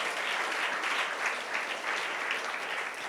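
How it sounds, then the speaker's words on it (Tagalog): A church congregation claps in steady, dense applause during a worship service, heard at moderate volume and slightly distant, without pause for a few seconds. "Palakpakan po natin ang Panginoon."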